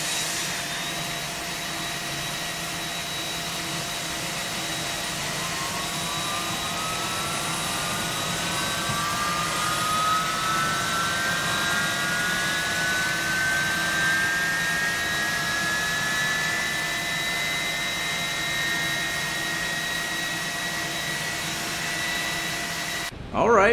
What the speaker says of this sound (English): Alright, let's go start engine number 1.